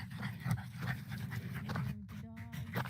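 Dogs panting outdoors in hot early-morning California heat near a campfire, soft rhythmic breathy pants close by with a couple of brief scratchy noises.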